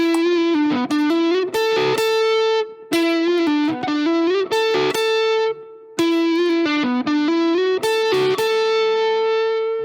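Electric guitar run through distortion and effects plays a melody, with sustained, slurred notes and slides in phrases separated by short pauses, close and loud, no voice.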